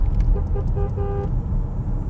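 A 2020 Range Rover Velar sounds its car horn in a few short, loud, bright honks close by, over a steady low engine rumble.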